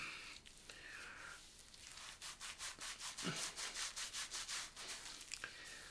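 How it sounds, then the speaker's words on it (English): Brisk rubbing of hands over a scalp while working in pre-shave, a rapid rhythmic swishing that speeds into a steady back-and-forth run, close and fairly quiet, with no talking. "Okay, I'll rub this in. Get some on my dome as well."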